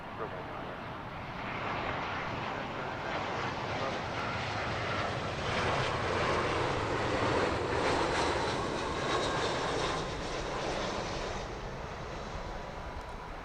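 Emirates airliner touching down on the runway at Heathrow Airport, its engine roar a steady broadband rumble that swells and holds for several seconds at moderate distance, with wind noise around it.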